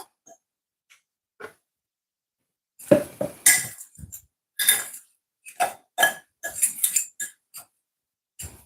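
A fork clinks and taps against a bowl while mixing during home cooking of Jamaican steamed callaloo, with a few isolated ticks first, then irregular bursts of clinking that come in quick clusters, fairly close and clear.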